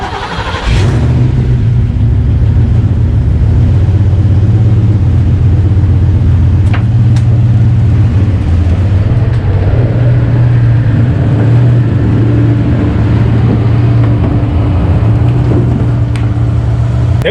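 A budget turbocharged Foxbody Mustang makes a pull after a sharp start, its engine a loud, sustained low drone with rising harmonic bands, heard from inside the car with road rumble underneath.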